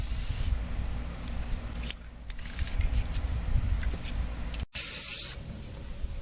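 Spray paint hisses onto a 1967 Craftsman tool box in several short, close bursts separated by brief pauses.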